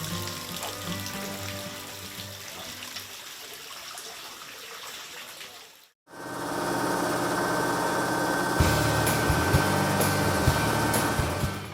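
A mill grinds soaked rice into fine flour in a family rice-flour workshop in Padang, giving off a loud, continuous motor-driven roar. The sound cuts out briefly midway, then resumes just as strongly.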